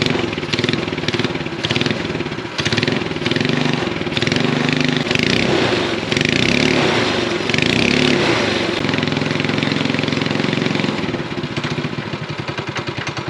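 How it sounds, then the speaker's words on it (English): A kid's snowmobile sits on a jack stand, its small engine revving steadily for several seconds while the lifted track spins freely, a loud buzzing drone with rises and dips in pitch. "Put it up on a jack stand, that way I can let the engine rev a little and the track will just spin."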